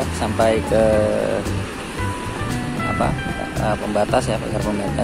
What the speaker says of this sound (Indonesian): Situasinya ombak cukup gemericik ya